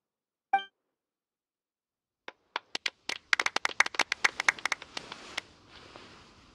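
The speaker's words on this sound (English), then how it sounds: "Let's give our champion Kaveh one last big round of applause." Award ceremony applause in a video game: after a single short sound, a few scattered claps begin and quickly build into a burst of rapid clapping from a small crowd before thinning out.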